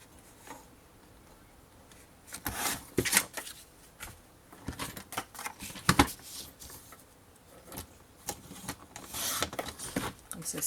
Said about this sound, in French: Vous allez couper cette bande.